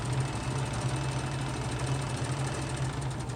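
A sewing machine runs steadily, stitching a headliner seam, with a continuous even mechanical hum and rapid needle chatter, close and alone.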